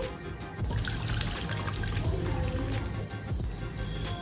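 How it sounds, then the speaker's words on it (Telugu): Mashed dal being strained through a filter for drumstick rasam, with continuous liquid splashing and pouring and soft ladle scrapes running steadily and close for several seconds. "ఇప్పుడు ఇలా గరిటెతో ఇలా మెదిపేసుకోవాలండి కిందకి రసం మొత్తం బాగా దిగుతుందండి"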